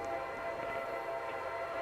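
A train horn sounds as a sustained, steady chord for the full stretch in the Roblox RO-Scale Eastern Railways game, fairly quiet and unbroken, with no talking.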